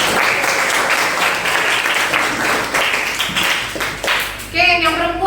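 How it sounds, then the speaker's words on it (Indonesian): Classroom applause from economics students clapping for a classmate, a dense burst of many hands lasting several seconds before fading into voices and a brief tonal sound at the end. "Tepuk tangan dong untuk Arya."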